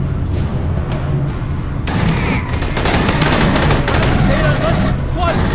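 Dense, loud gunfire and explosions in the Aliens Colonial Marines shooter game, with continuous automatic fire and booming blasts, and a voice shouting faintly underneath.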